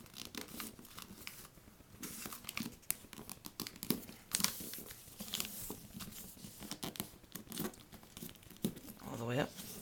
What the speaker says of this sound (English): fold it right here. Like make the crease right there along that line up.